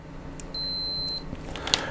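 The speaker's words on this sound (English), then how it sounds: "here it is set in continuity. You may hear a beep." A digital multimeter on its continuity setting gives one clear, steady high-pitched beep of under a second during LED Christmas tree kit assembly, with faint clicks of the probes around it.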